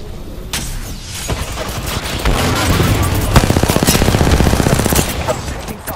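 Gunfire in the shooter game Apex Legends, rapid automatic bursts of close, loud shots in quick rhythmic succession, sustained throughout with brief gaps.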